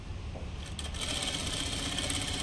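A sewing machine stitches thread piping in a steady, fast mechanical rattle close by, running without pause after a brief lighter start, with no voices over it.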